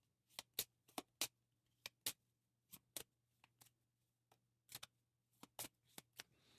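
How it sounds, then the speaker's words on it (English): A deck of playing cards for the Kinfire Chronicles: Night's Fall board game is shuffled in quiet, scattered bursts of crisp riffling and snapping, close up and soft in a still room with no talking. "we'll give these a shuffle because we need to draw our cards"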